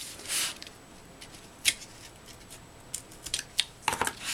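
Scissors cutting paper up close, scattered sharp snips, sparse at first then a quicker cluster of cuts toward the end, with soft paper rustling between.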